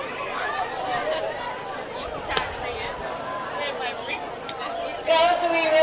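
A packed indoor court at a netball grand final fills with steady crowd chatter and babble, with scattered chuckles and a few sharper shouts. The whole din swells louder near the end.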